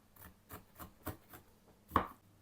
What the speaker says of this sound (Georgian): 150 გრამი მიწის თხილი დავაქუცმაცოთ.